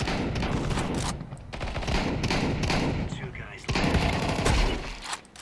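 Repeated bursts of rifle fire in Counter-Strike 2 on the Nuke map during a bomb defusal round, with loud close volleys and rapid shots mixed with talk.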